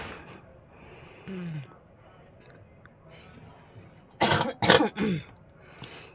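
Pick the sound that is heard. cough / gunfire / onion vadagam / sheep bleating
cough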